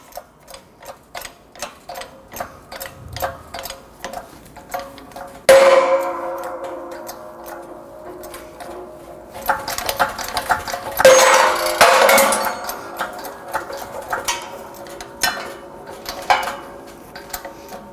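A front lower control arm bushing is pressed out of a 1992-1996 Toyota Camry control arm in a shop press, with repeated metallic ticks and clicks, then a sharp creak and a louder grinding burst as the bushing shifts.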